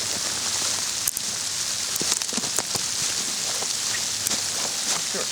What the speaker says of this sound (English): We got some freezing rain coming down right now, so that's what's in the background.